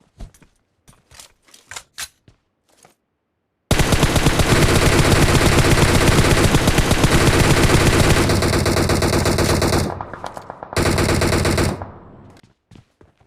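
Sustained, loud automatic gunfire rattles continuously for several seconds in a battle royale video game, after a few scattered single shots, then pauses briefly and resumes in a shorter burst before stopping.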